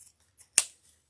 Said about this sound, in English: We'll trim this one a little shorter